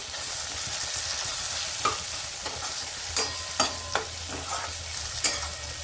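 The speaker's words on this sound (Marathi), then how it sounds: "आपण थोडासा लसूण टाकू कुटलेला। तर याला पण याच्याबरोबर परतून घेऊ" Soft onion and tomato sautéed with crushed garlic in a pan, a steady low sizzle broken by several sharp spatula scrapes and knocks against the pan.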